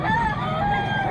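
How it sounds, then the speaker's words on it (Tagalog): Roosters crowing among gamefowl at a busy fowl market in Bocaue, with overlapping drawn-out crows and steady crowd hubbub, continuous and fairly near throughout. "Oh, ang daming manok dito boss."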